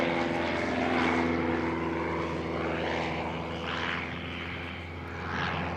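An Interstate Cadet propeller airplane flies a four-point hesitation roll at the 2017 Abbotsford International Airshow. Its engine drones steadily and loudly, and the pitch and intensity shift gently as the plane rolls, with no talking.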